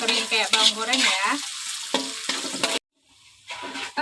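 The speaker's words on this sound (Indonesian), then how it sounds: "Kita tumis saja bawang ini sampai kuning." Onions being sautéed in a frying pan for potato-and-meat perkedel seasoning, sizzling and stirred steadily up close, with a brief pause before the frying hiss resumes.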